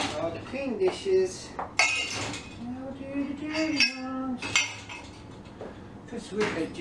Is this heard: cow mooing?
no